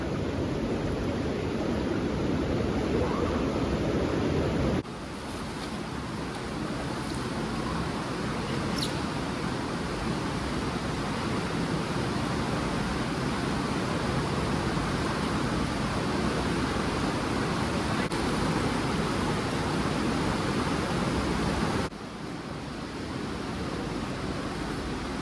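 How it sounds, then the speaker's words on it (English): Small waterfall in the Alcantara gorge in Sicily, a dense, steady rushing roar of falling water that stays loud and unbroken throughout, close by, with no talk. "There's like a sort of a small waterfall."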